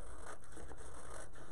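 Scissors snip through paper pattern pieces along a dotted line in steady, close scraping cuts with no voices.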